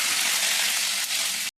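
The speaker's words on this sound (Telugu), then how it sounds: "ఇంక తాలింపు వేస్తా" Spices for a tempering hit hot oil and sizzle in a loud, close, unbroken frying hiss that holds steady and then cuts off abruptly.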